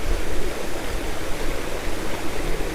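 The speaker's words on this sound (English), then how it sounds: "Some trickles of a little tiny waterfalls." A small stream trickles over tiny waterfalls beside old canal locks, a steady close wash of splashing water with no voices.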